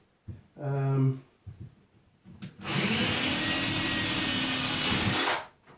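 A power drill bores a pilot hole into a wooden wall stud with a loud, steady whine lasting about three seconds. A short speaking voice and light handling noises come just before it.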